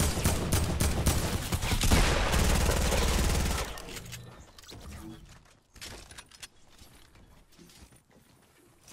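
A burst of rapid, dense shotgun fire in Fortnite for a few seconds, then quieter clicks and mechanical clatter.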